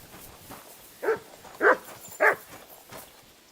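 Three short, mid-pitched dog barks spaced about half a second apart, moderately close, in the medieval game Kingdom Come Deliverance 2 on hardcore mode, over a quiet background with no talk.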